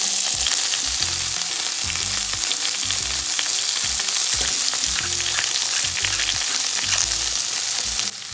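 Chili strips (rajas) sauté in a pan, a loud, close, continuous frying hiss with crackle, partly masked by rhythmic background music.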